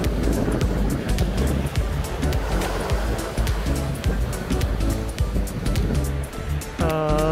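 Waves wash steadily against a rocky seashore on the Byeonsan coast near Jeokbyeokgang, a continuous surging roar close by, with wind and a brief higher tone near the end.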